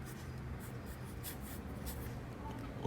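A pencil scratches steadily across paper while a manga-style figure and its hand are sketched, giving close, quiet strokes and light rubbing in an irregular rhythm, with no talking.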